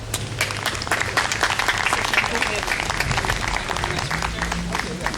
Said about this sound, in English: give a big round of applause to all of us